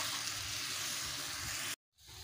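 Rohu fish heads frying in hot oil while cooking chal kumro ghonto, a steady loud hiss and sizzle that cuts off abruptly near the end, then returns more faintly.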